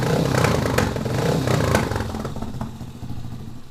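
A modified X21 Type M engine revs steadily and loudly at close range, its mid-pitched drone rising and easing across a few seconds with some mechanical clatter and no talking.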